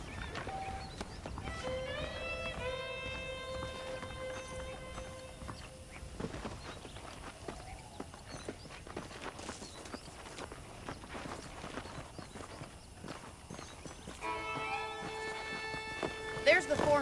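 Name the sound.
horse hooves trotting, from a video game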